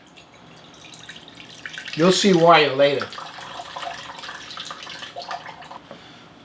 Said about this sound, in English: First thing I'm going to do is drain the water out and set it aside.